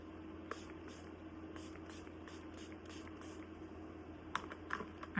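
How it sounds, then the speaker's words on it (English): Milani Make It Last setting spray misted onto a face, several short sharp hissing bursts in quick succession, close and fairly quiet, with a cluster of sprays near the end. "And I also want to hit it with the Make It Last Milani Spray."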